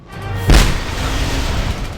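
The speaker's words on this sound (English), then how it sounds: "And that time the explosion took out the sentry gun." In the video game Just Cause 2, a loud close explosion blasts a sentry gun apart, one sharp heavy boom followed by a rumbling, sustained debris roar that slowly fades, with no voices.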